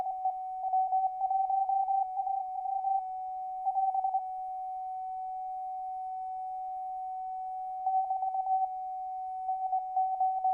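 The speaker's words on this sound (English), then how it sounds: "if you can hear both tones now, that sounds pretty close" Two steady sine-like CW tones from a radio beep on and off in Morse-style bursts, with clustered keying separated by pauses and a faint hum beneath.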